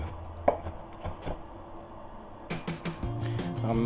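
A knife chops vegetables into small pieces on a board, with scattered single cuts early and then a quicker run of sharp knocks near the end, close and moderately loud, with no talk.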